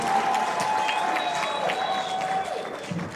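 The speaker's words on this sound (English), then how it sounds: "Clap more, clap more, clap more." Crowd clapping and cheering at a political alliance launch, a steady dense wash of applause held throughout with a few raised voices mixed in.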